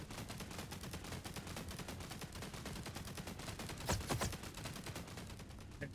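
Sustained rapid gunfire from an enemy in a VR video game rattles out in dense bursts, with a louder burst near the end, and no talk over it.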